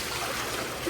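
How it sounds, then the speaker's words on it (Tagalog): Water poured from a bucket into a pigeon bath makes a steady, continuous splashing rush that lasts the whole moment. "Yun, buhos natin yung tubig."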